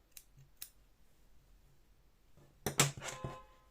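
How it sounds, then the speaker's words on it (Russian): Scissors snip through crochet yarn at the end of a row of single crochet on a child's dinosaur backpack, giving a couple of faint early clicks and then one loud, close, crisp cut with a short rattle after it. "Обрезаю ниточку"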